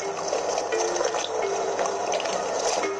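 Water pouring steadily into a container for washing clothes, a continuous close splashing fill with no talk.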